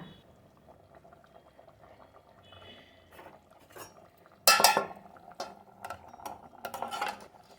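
A lid clatters onto a metal pot of jackfruit and potato curry as it simmers in plenty of water; one loud clank is followed by several lighter clinks and scrapes of the cover settling.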